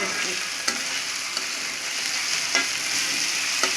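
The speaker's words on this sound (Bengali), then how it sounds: "সরিষার তেল দিয়ে পেঁয়াজ, রসুন, শুকনো মরিচ, কাঁচা মরিচ দিয়ে সুন্দর করে ভাজা হচ্ছে" Onion, garlic, dried and green chilies sizzle steadily in hot mustard oil, with a few sharp spatula taps and stirring scrapes now and then.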